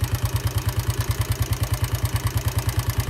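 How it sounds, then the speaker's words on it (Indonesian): A Yamaha Jupiter motorcycle engine is held at raised revs during a charging test on a weak battery, its exhaust pulsing in a fast, even, loud chugging rhythm, close up and alone. "Kita coba geber, posisi digeber ya."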